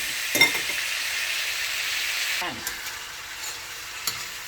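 Pork browning in a pan for binagoongang baboy sa gata, a steady soft frying hiss broken by a few clanks and scrapes of a utensil stirring the meat, with no talking.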